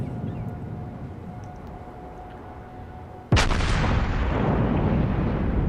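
Battleship main guns from World of Warships, with the Imperator Nikolai in play, fire as one sudden loud blast after a steady low engine drone, followed by a long rumbling, hissing decay.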